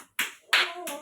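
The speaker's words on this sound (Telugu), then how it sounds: "క్లాప్స్ కొట్టండి" Anganwadi kids give a few scattered hand claps in quick succession, close and distinct, three separate bursts within about a second.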